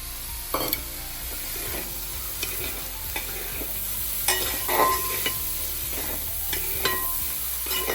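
Chicken and mushrooms sautéing in a pan for a creamy pasta, a steady soft sizzle under intermittent scraping strokes of a spoon stirring, close and moderately quiet.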